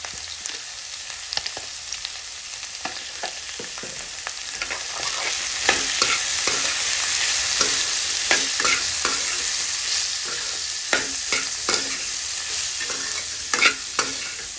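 French beans frying in a pan with red chili powder, Kashmiri chili powder and salt, stirred on low heat: a steady close sizzle with frequent scraping and clicking of a spoon, growing slightly louder midway, no voices.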